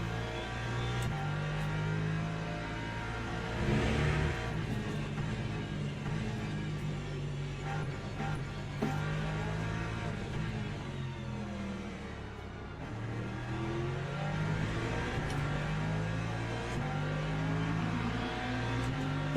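Le Mans Ultimate hypercar engines racing in a pack, a continuous layered whine and rumble of several cars, with pitch climbing and dropping as they accelerate and pass, steady and fairly loud throughout.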